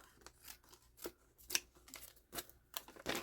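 Scissors cut the top off a plastic bag of grass seed with a series of quiet, crisp snips and crinkles, irregularly spaced and heard up close.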